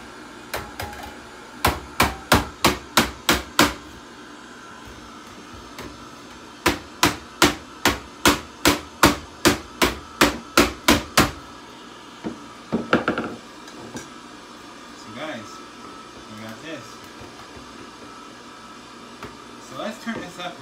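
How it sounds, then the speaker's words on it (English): Rapid bursts of sharp hammer strikes on a boombox speaker cover, several quick runs of evenly spaced blows, then scattered softer knocks and a voice speaking. "we are going to pop the speaker cover off using my normal hammer here"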